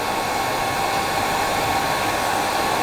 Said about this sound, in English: I've got the hairdryer, so I'm going to push these fibres back and split them with my finger using the hairdryer